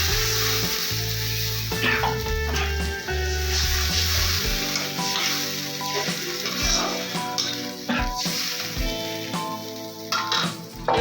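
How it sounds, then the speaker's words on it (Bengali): A fish head fries in hot oil as water is added, producing a steady, loud, close sizzle and crackle with bursts of spitting and occasional stirring clatter. No one speaks. "মাছের মাথাটা দিয়ে দিচ্ছি এখানে ভালো মাছের মাথাটা এরপরে আমি এখানে একটু জল দিয়ে দিচ্ছি"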